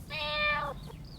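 One short cat meow, clear and fairly close, a bright tonal cry lasting under a second, followed by quiet background.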